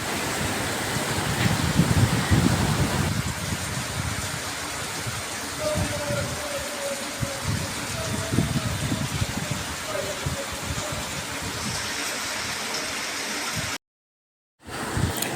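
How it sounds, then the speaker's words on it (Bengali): Heavy rain pours down outside in a steady, dense hiss that lasts throughout, with a faint voice in the background. "দেখতে পাচ্ছেন প্রচুর বৃষ্টি হচ্ছে বাইরে"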